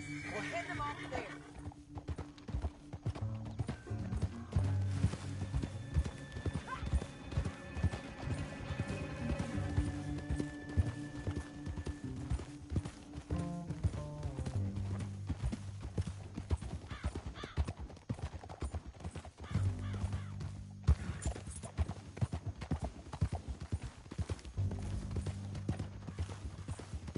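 Horses gallop with steady clip-clop hoofbeats and occasional whinnies in a PS4 Western action game, layered under orchestral music and character dialogue throughout.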